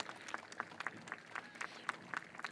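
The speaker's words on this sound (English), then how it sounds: "it would be appropriate for a round of applause" An audience gives a round of applause at a centenary commemoration ceremony, heard as faint, scattered claps that stay fairly quiet and steady throughout.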